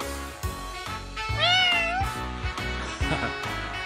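In the video game Trails of Azure, a cat gives one clear, drawn-out meow over steady game music with rhythmic beats.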